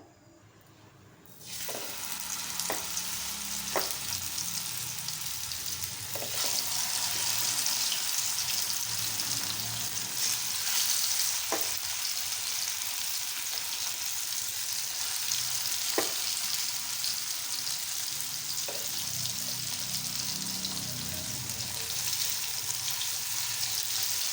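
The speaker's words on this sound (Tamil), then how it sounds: "ஸ்ப்ரெட் பண்ணிவிட்டு மேரினேட் பண்ணி வச்சுருக்க ஃபிஷ்ஷஸ் எடுத்து அதில் ப்ளேஸ் பண்ணலாம் தவாவில்" Marinated fish shallow-fry on a flat tawa over a medium flame with a steady, close hissing sizzle that runs throughout, broken now and then by faint crackles and soft clicks.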